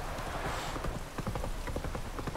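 Horse hooves clip-clop in a steady rhythm in the video game The Witcher 3, close and moderately loud against a soft background.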